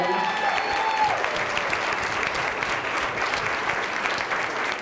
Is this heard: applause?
yes